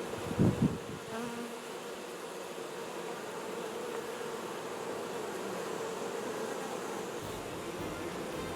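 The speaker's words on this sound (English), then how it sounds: "I took some pictures of the bees. Yeah, because they're making honey now." Honeybees making honey hum in a steady, continuous buzz, fairly close and unbroken, with a brief knock just at the start.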